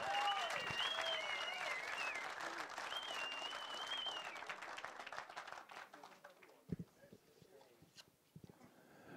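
A crowd at an outdoor fishing competition weigh-in claps loudly for a team, the applause strong at first and thinning into scattered claps, with a whistle and voices heard over it.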